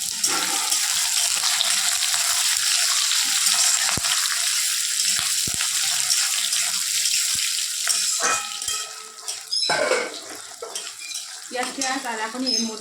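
Bay leaf, dry chili, cumin and cardamom fry in a pan with a steady hiss of oil, punctuated by sharp clinks of utensils against the pan and a louder burst of stirring toward the end.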